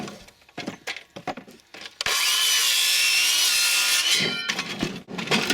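Firewood is cut with a hand saw, starting with a few separate rasping strokes and then settling into a sustained, close grinding pass of the blade through the wood.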